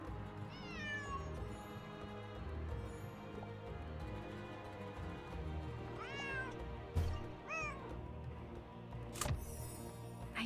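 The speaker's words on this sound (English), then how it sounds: "There's that cat again." A cat meows several times in Nancy Drew: Lights, Camera, Curses! video game, high wavering cries spaced apart over a steady low background hum, with a couple of sharp clicks.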